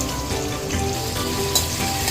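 Chopped tomato and coriander hit hot oil tempering in a pan, making a continuous close sizzle with light crackling for a couple of seconds, and no voices.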